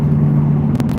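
A car engine idles steadily with a low, even rumble, close and loud, with a brief flutter near the end.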